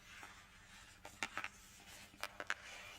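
Herbal Healing oracle cards are handled close up, with soft papery taps and shuffling flicks in two small clusters of quick clicks, quiet and intimate against a hushed background.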